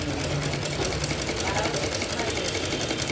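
A sewing machine stitching close along the edge of buff hands runs in a fast, steady mechanical whir with rapid needle clatter, loud and continuous throughout.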